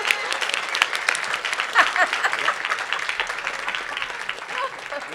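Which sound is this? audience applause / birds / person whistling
audience applause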